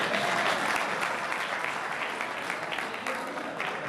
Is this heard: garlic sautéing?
no